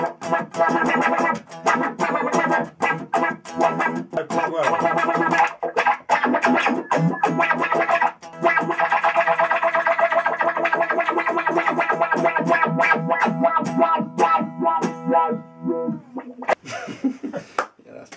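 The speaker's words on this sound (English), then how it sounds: "get that classic wah sound as well" A distorted guitar riff sweeps through a filter effect, its tone rising and falling in a vowel-like wah while fast notes and rhythmic strums continue, briefly cutting out near the end.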